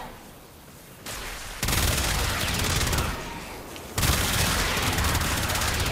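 The Phenmor rifle in Warframe fires in semi-auto mode, producing loud, harsh bursts of rapid gunfire that cut in and out in blocks, with brief quieter gaps between volleys.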